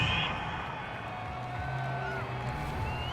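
A home stadium crowd in Madden NFL 22 cheers a penalty call at an American football game, a steady broad roar of voices and whoops sustained throughout, mixed with commentators talking.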